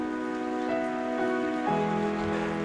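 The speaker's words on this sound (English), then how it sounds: "It started really properly raining right now." Steady rain falls while paragliding in the Swiss mountains near Interlaken, a continuous patter under a sustained droning tone, with no voices.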